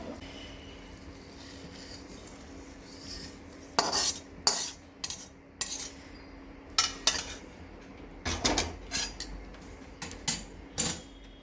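A spoon stirs melted jaggery for modak filling in a metal pot, starting quiet and then breaking into irregular bursts of clinking and scraping against the pot, close and clear, with no voices.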